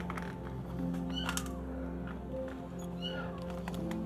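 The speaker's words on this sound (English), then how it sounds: "The kitten meowing is definitely getting louder." A kitten meows a few times, faint and thin, inside an empty abandoned house, over a steady low hum and room noise.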